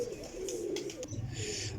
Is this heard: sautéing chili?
no